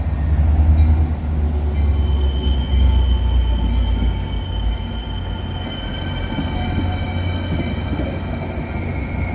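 Close to the tracks near Chicago's Union Station, a train rolls past with a loud, steady low rumble, and thin, sustained wheel squeals ring above it throughout.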